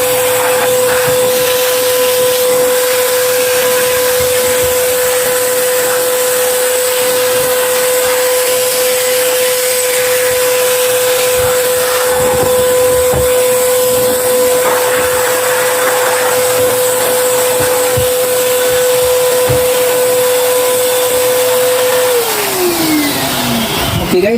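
A blower roars steadily and loudly for over twenty seconds, drying a washed Sakura 733 part. Its high, even whine sits over rushing air, then winds down sharply at the end.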